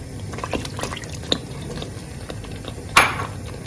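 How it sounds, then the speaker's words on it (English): Stock is poured into a pot of beetroot jollof rice with minced meat, giving soft liquid splashes and gurgles, light utensil clinks, and a sharper splash near the end, close and without talk. "We'll go ahead and add our stock."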